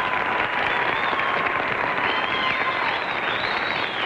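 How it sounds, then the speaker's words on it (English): A 1952 television studio audience applauds announcer Bern Bennett, a dense, even wash of clapping from many hands that holds steady and loud throughout. "So let's give Bern a hand, shall we?"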